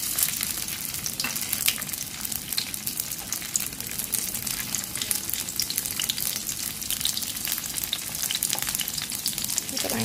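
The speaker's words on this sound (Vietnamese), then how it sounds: "Bây giờ mình sẽ cho cái phần thịt ba chỉ cho chúng ta chiên trước nha." Pork belly pieces fry in hot oil, a steady, crackling sizzle with dense popping that continues evenly throughout, close and alone without talk.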